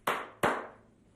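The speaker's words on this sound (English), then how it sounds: "With the clapper, I only need 2 claps." A pair of sharp, close hand claps fired at a Clapper sound-activated switch, the second coming about a third of a second after the first, each ringing briefly in the room before fading to quiet.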